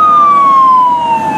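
Toy police truck siren wailing loud and close as one steady electronic tone that slowly glides downward in pitch, with no talk over it.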